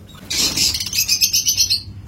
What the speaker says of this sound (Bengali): এটা মেয়ে পায়রা, এই পায়রার পেটে মনে হয় ডিম আছে।